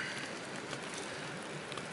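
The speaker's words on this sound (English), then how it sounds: "Not raining too hard, just kind of a light rain" Light overnight rain patters steadily on a hammock tarp beside a mountain lake in the Cline River backcountry, a soft continuous hiss of fine drops with no voices.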